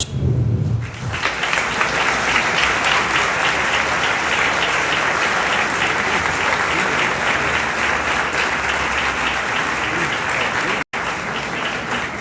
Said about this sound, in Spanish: Otro fuerte aplauso, por favor,